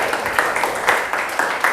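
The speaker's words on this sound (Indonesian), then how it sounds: "Tepuk tangan untuk Rafli." Classmates clap for a student in a classroom lesson, a brief, fairly close burst of scattered handclaps with faint voices mixed in.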